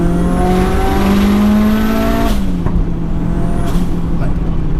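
A 550bhp 2.3 stroker Mitsubishi Evo 6 engine screams loudly at high revs up close, then drops off sharply on a gear change or lift with a hiss of turbo blow-off, a voice briefly audible over it.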